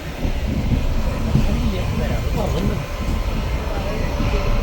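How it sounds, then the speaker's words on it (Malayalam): A passenger train travelling from Himachal Pradesh to Kerala comes to a stop, heard from on board as a loud, steady low rumble and rattle under nearby people talking. "ട്രെയിൻ നിർത്തി"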